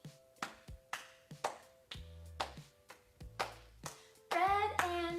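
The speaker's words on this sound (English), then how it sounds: "Can you clap along with me?" A small group, including children, claps along in a slow, even rhythm during an online storytime goodbye song, each clap distinct with ringing tones between, ending in a louder burst of claps and voices.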